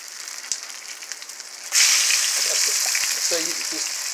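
Battered meat fries in a pan with a quiet crackle at first, then a sudden loud, steady sizzle and hiss sets in close by, with brief bubbling pops over it.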